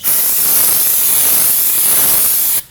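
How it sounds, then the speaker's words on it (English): A steady, loud aerosol can of brake parts cleaner hisses continuously onto a brake rotor for a couple of seconds at close range, then cuts off abruptly. "I'm gonna grab myself some brake parts cleaner and a rag and spray some on it"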